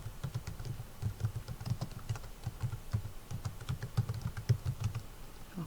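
Someone types on a computer keyboard, a fairly quiet, quick run of irregular key clicks and taps continuing steadily with no talk.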